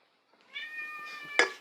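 A house cat gives a single drawn-out meow, close and clear, rising into a sharper ending in a quiet room.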